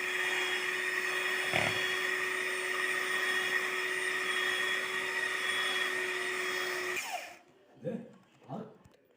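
Whipping cream beaten with an electric mixer, a steady close whirring drone that holds for several seconds, then stops abruptly, followed by a few brief knocks.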